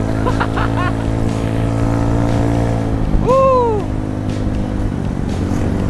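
A modified Volkspod motorcycle built on a Yamaha Mio engine idles loud and close in a steady low drone, with a brief rising and falling whine partway through.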